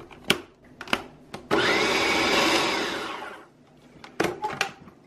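A food processor whirs loudly for about two seconds as it mixes grain-free chocolate-chip cookie dough, bracketed by sharp knocks and clatters of the bowl and lid before and after.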